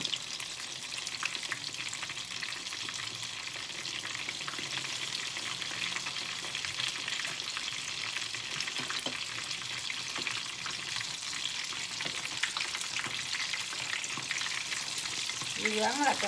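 Battered Swedish stormy fish frying in oil makes a continuous dense sizzling hiss at close range, steady throughout, with a brief spoken word near the start.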